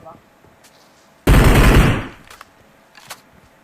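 A loud, sustained automatic-fire burst of almost a second in PUBG Mobile on the Erangel map, followed by a few faint, scattered pops, with low voices in the background.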